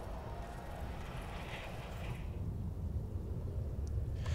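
Airplane engine rumble in the SimAirport airport-management game, a low steady drone that swells slightly toward the end, with no one speaking.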